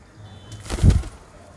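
A short, close burst of flapping wings as a pigeon takes off, rising quickly and fading within a second.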